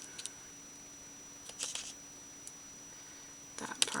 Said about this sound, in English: That part I'm going to trim back.